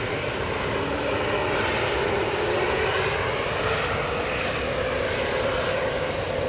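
A fixed-wing airliner departs from Manchester Airport bound for Lanzarote, its engines a broad, continuous roar that swells gradually and holds steady without interruption.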